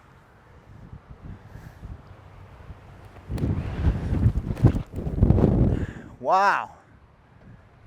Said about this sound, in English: I'm telling you, this is a very stiff headwind